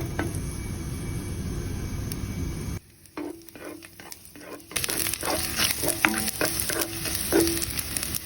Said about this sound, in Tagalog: mag-uumpisa na tayong maggisa. Yan, ilalagay na po natin ang ating bawang.